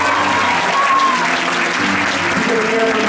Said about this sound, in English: Why don't you put a big round of applause?